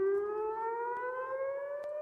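Air raid sirens over Jerusalem wail in a steady rising tone with layered harmonics, loud and sustained throughout, with no voices.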